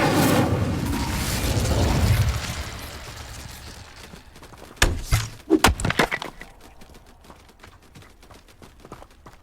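The Incendio fire spell in Hogwarts Legacy erupts in a loud roaring whoosh of flame lasting about two seconds, followed by a scatter of sharp knocks and thuds fading out.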